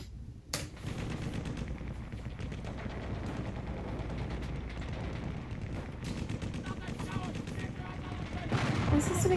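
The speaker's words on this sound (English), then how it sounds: "Guns." Gunfire sound effects in the intro of a song: dense rapid bursts of machine-gun fire and booming artillery blasts, continuous and fairly faint, with a sharp louder burst near the end.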